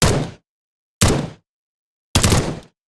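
Three heavy, booming gunshots at roughly one-second intervals, each a thick blast with a short rumbling decay, loud and close.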